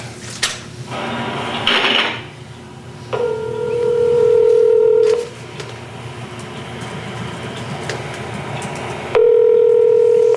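A telephone line carries a steady dial tone that sounds in long stretches, interrupted by clicks and brief dialing tones, all loud and close in a recorded phone call.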